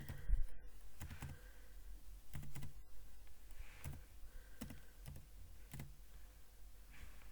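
Calculator buttons are pressed one at a time in a quiet room, a string of faint, evenly spaced clicks up close.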